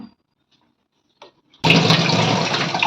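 Peeled potatoes, three of them, are washed in water: after near silence and a couple of faint knocks, a loud, close rush of running water starts abruptly and continues steadily to the end.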